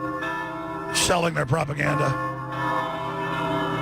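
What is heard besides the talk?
church bells ringing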